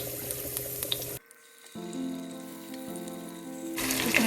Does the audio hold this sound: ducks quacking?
no